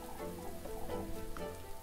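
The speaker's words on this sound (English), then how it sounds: "This rain won't let up, will it?" Steady rain ambience in the Little Goody Two Shoes video game, a soft continuous patter with faint musical tones layered underneath, fairly quiet and unbroken throughout.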